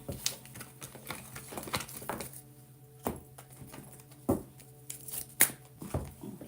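Tarot cards are shuffled close by in soft, uneven bursts of riffling and tapping, quiet and intermittent with short pauses in between.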